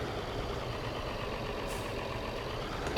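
A steady low engine drone hums continuously, like a tractor idling, with no talking: a small tractor in Farming Simulator 22.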